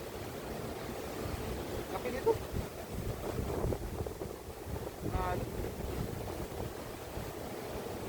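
Steady wind roars and buffets the microphone throughout, with a rumbling low rush and some faint background voices.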